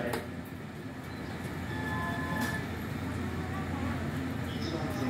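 A 185 series train departing Kamakura Station in Japan rumbles steadily, a low continuous drone that builds slightly as it gets moving, with faint announcements or voices in the background.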